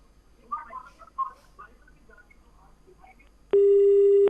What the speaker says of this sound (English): the phone line got cut